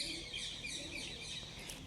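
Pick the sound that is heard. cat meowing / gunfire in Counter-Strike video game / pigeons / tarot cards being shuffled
pigeons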